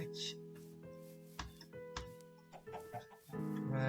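Minecraft chickens clucking in short, soft bursts over a steady game background drone and scattered clicks, fairly faint, with no talk.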